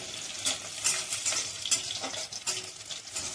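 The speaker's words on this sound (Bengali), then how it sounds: "পেঁয়াজ কুচি, পেঁয়াজটা লাল লাল করে ভেজে নেবো।" Chopped onion frying in a pan until reddish, with a steady close sizzle and scraping stirs recurring every half second or so, no voices.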